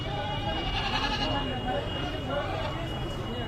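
Native Bangladeshi goats bleat repeatedly at a rainy-day rural livestock market, nearby wavering cries rising over a busy crowd murmur and people talking.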